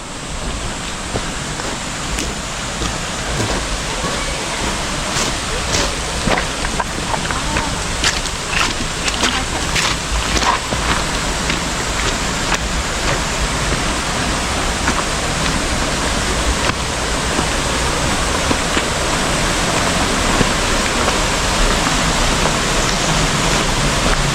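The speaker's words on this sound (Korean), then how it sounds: "이 폭포, 보현 폭포입니다" Bohyeon Falls, second of the twelve falls at Bogyeongsa on Naeyeonsan, a steady loud rush of falling water in a valley, continuous broadband roar throughout.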